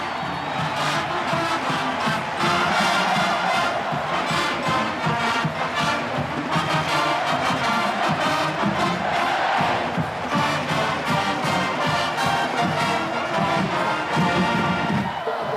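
Football stadium crowd at the 1995 Auburn versus Alabama game roaring and cheering on its feet, a dense, loud, continuous wall of voices and shouts that holds steady throughout.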